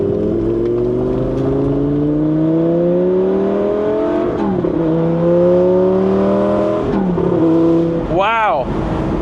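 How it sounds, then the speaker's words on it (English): A Lamborghini Gallardo Spider with about 9,445 miles revs loudly and close by, its engine note rising and falling in waves. Sharp exhaust pops crackle near the end. "Already getting some Lamborghini pops and drama."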